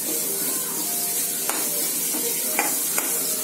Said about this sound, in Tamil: இதை வதக்கிக்கலாம். கோல்டன் ப்ரௌன் ஆகணுங்க